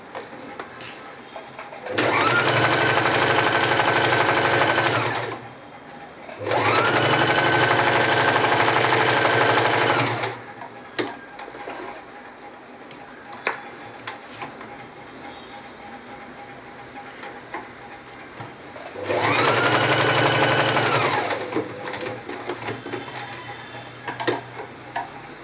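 A sewing machine stitches fabric for a silk pavadai top in three steady mechanical bursts of several seconds each, close and loud, with quiet pauses between runs.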